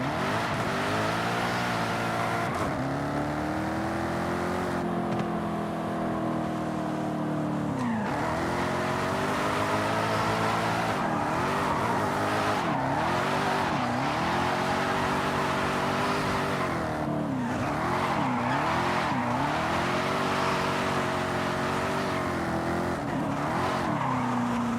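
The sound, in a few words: supercharged V8 car revving and drifting in Forza Horizon 5 video game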